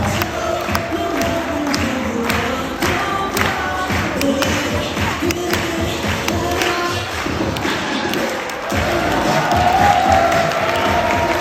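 A room full of wedding reception guests claps in a hotel ballroom, with cheering and crowd noise mixed in. Sharp individual claps and thumps stand out at times, and the sound swells louder near the end.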